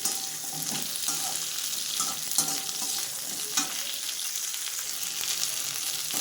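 Onions sauté in sesame oil for a Tamil perandai thuvayal, a continuous crackling sizzle with occasional stirring scrapes and small pops, moderately loud and steady with no talking.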